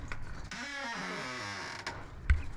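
A chicken coop latch releases with a long creaking swing of the doors, followed by a sharp knock near the end, heard alone and close.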